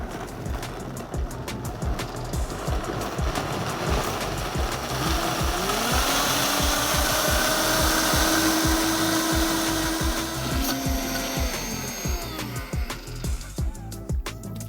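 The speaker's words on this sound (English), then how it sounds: "We're gonna put them on a blender." A high-powered blender whirs loudly and continuously as it purees avocado hummus, its motor pitch shifting and rising as the mixture smooths out, close by with no talking.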